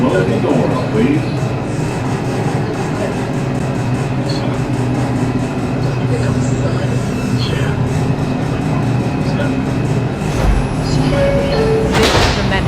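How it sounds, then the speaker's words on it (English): Doors on an NYC subway R142 train on the 5 line close with a short bump near the end, rising over the steady loud rumble of the train and the noise inside the car. "Stand clear of the closing doors, please."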